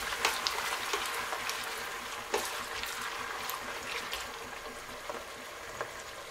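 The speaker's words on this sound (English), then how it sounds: "when your oil gets hot, fry your chopped onions" Chopped onions sizzle and crackle in hot oil, a steady frying hiss with scattered pops and a few clinks from stirring, close up.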